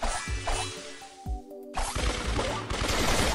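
Brawl Stars gameplay fills with rapid game gunfire, impacts and whooshes in dense bursts. A short lull comes midway before the shooting resumes loudly.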